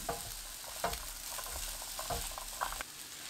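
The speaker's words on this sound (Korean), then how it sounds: "3분 후 다진 마늘 반큰술, 고운 소금 반큰술 넣고 중불로 2분 볶습니다" Cubed potatoes stir-fried over medium heat with minced garlic and fine salt for a celery dish. A steady close sizzle runs throughout, broken by a few quick spatula scrapes and stirs, with no talking.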